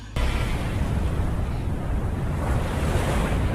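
Sea waves at Natuna Utara surge in a constant loud roar of surf, heavy with wind buffeting the microphone and no clear breaks between swells.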